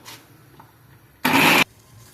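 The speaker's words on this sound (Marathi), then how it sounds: "तर हे मी मिक्सर मधून वाटून घेते." A mixer grinder whirs loudly in one short burst while grinding black pepper with a little water, starting and stopping abruptly amid a quiet kitchen.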